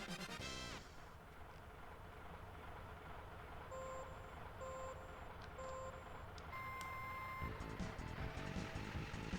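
A truck driving in the SNES racing game Stunt Race: a steady synthesized engine drone with repeated electronic beeping tones, fairly quiet and continuous.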